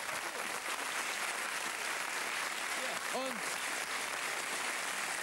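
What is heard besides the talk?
studio audience applause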